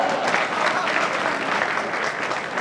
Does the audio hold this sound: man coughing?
no